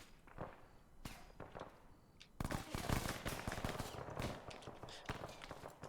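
Dense AI gunfire in the video game Arma 3, with rapid automatic bursts and single shots pounding a building, growing into a near-continuous heavy barrage after a sparser opening.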